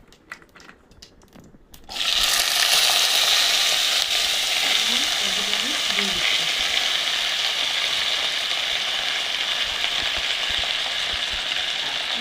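Mixed winter vegetables hitting hot oil with cumin, bay leaf and dried chilli, a loud steady sizzle that starts abruptly after quieter clinks and scrapes, then keeps frying under occasional stirring.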